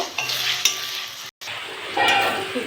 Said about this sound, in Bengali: পেঁয়াজটা একটু ভেজে নিয়েছি, আদা রসুন বাটা দিয়ে দেবো। এটা একটু ভেজে নেব।